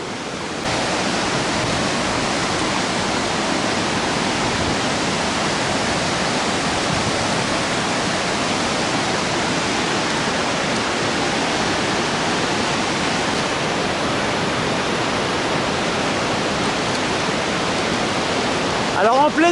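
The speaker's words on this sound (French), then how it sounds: "et on a la vue sur la cascade." The Bérard waterfall roars in a dense, unbroken rush of falling water, loud and close, filling the whole stretch with no other sounds.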